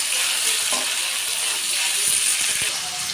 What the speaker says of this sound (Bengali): তেলের উপর আদাটা একটু ভেজে নেব